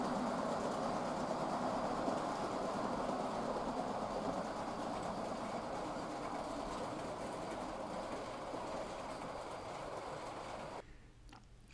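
A small model train pulling a Silver Jubilee triplet carriage set rumbles steadily along its track with a soft continuous clatter, fairly faint, fading slightly near the end.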